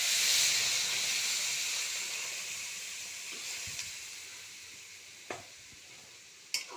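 Water is poured into a hot pan of taro curry, setting off a strong steamy hiss that gradually dies down, with a few soft clinks near the end.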